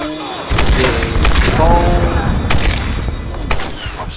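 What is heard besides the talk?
machine gun fire in Tomb Raider Definitive Edition video game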